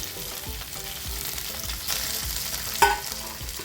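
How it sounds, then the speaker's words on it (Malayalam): Pre-cooked meat crisping in hot oil in a pan gives a steady close sizzle, with periodic stirring scrapes and one sharper clink near the end, no voices. "നമ്മൾ ഇറച്ചി ഒന്ന് മൊരിയിപ്പിച്ചെടുക്കാൻ വേണ്ടിയിട്ട് വെച്ചിട്ടുണ്ട്"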